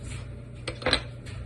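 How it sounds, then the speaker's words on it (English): A knife slicing fruit into thin pieces for a Valentine's pavlova, with a few soft clicks and taps of the blade against a board or dish, close by and fairly quiet over a low steady hum. "And I'm just cutting into thin slices."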